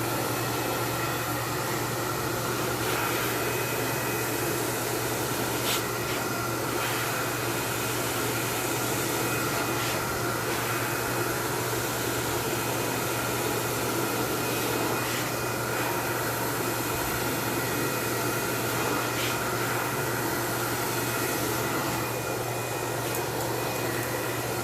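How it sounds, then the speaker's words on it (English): A hair dryer blows steadily while hair is brushed through in small sections, a constant airy whoosh with a low hum underneath and no talking. "I'm going to put my brush in her hair with my bristles facing down, following that with my dryer as I go through the strands of her hair"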